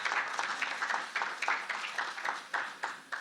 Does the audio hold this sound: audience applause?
yes